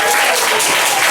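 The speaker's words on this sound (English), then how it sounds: "Come on, just keep on clapping." A church audience applauds to welcome a speaker, a loud, dense and continuous burst of clapping.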